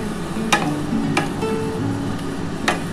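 A cup of water goes into a well-fried spice mixture in a pan. A steady sizzling bubble continues throughout, broken by three sharp clacks of a utensil against the pan.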